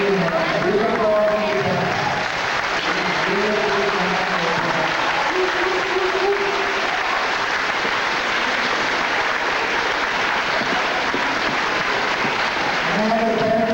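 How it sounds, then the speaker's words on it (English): Sustained, dense clapping from an audience at a middle school graduation fills the whole stretch loudly and evenly, with voices speaking over it at the start and again near the end. "And I want to ask all my students to join me in a big applause."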